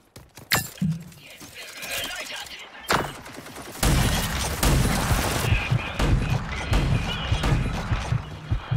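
Bursts of gunfire in the video game Rage 2 crack out in quick volleys amid crashing impacts, loud and busy, with a voice speaking German coming through in places.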